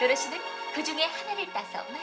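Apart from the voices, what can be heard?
None of the usual background noises is heard.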